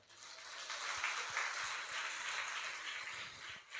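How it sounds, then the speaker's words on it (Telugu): An Easter service congregation claps together in a steady, crowded patter that sounds faint and distant, holding evenly for a few seconds with no talking over it. "చప్పట్లు కొడదాం."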